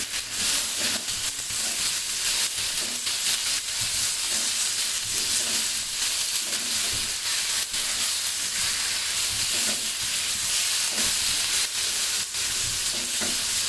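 Thinly sliced tomatoes frying in a hot pan for dhaba-style chicken, a loud, continuous close sizzle with crackling and occasional stirring scrapes throughout, no voices.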